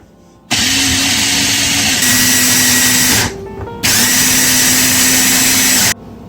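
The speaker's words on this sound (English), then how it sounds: "We're just going to take the walnuts a little at a time, and we're just going to blend the walnuts down" A blender loudly grinds walnuts for an Azerbaijani stuffed chicken lavangi filling, running in two long continuous bursts with a brief pause between them.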